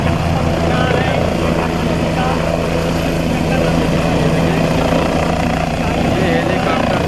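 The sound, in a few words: helicopter flying and landing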